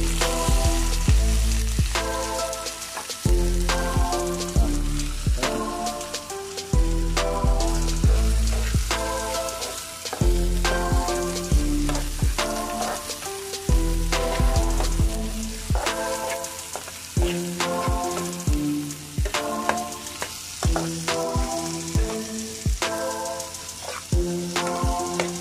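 Green chillies and onion frying in a pan, a steady crackling sizzle with many rhythmic knocks and scrapes of stirring. The sound is close and continues without speech.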